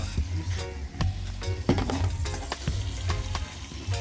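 Wild bird meat simmering in a covered pot outdoors in Jamaica, giving a steady close bubbling and sizzling hiss with low rumble and occasional soft knocks throughout.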